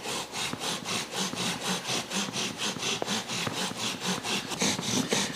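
A bow drill spindle rubs back and forth against wood while building up smoking sawdust for a friction fire, giving a steady rhythmic rasping at about three strokes per second, close and alone.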